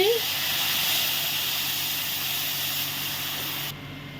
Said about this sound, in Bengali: এখনই আমি টমেটোর পিউরিটা অ্যাড করে দিচ্ছি